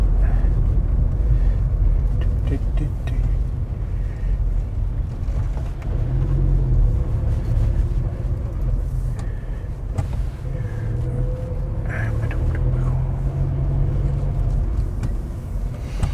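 A car drives along a country road near Berry Pomeroy in Devon, with a steady, loud engine and tyre rumble from inside the cabin, low and continuous with slight shifts in tone.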